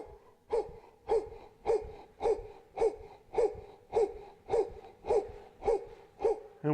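Heavy rhythmic breathing during rebounder exercise, about a dozen evenly spaced breath cycles roughly every half second, each a sharp close inhale or exhale pulse, with no talking.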